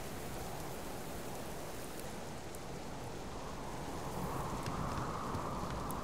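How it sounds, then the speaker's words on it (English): Steady rain with blowing wind in the Subsistence survival video game, a dense continuous wash of noise that swells slightly toward the end, heard alone without voices. "now it's still nasty raining, wind's blowing,"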